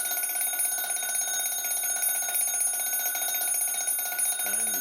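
A wind-up Ansonia time-and-strike clock from about 1900 rings its alarm bell in a continuous, fast, steady metallic trill that runs loud and close throughout.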